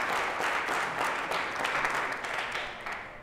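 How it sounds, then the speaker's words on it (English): A crowd at the 2017 Raptor Tank business pitch competition gives a final round of applause for the finalists, a dense, steady wash of clapping that fills the room throughout and tapers slightly at the end. "let's give one more round of applause for all of our finalists today"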